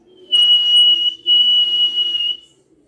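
A sharp, shrill whistle is blown twice, each blast close and steady for about a second, with only a brief gap between them and no voices.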